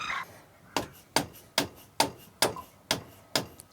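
Bicycle fork lower dust seal being tapped into place using a nut to spread the load, seven sharp evenly spaced taps about half a second apart, close and crisp, with no speech.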